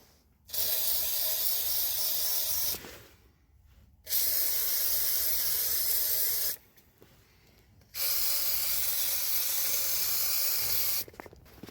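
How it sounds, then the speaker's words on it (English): WD-40 spray lubricant hisses out of the can onto the wheel nuts of a 1938 Ford truck in three long, loud bursts of a few seconds each, separated by short quiet pauses. "I think I'll put some WD-40 on them first"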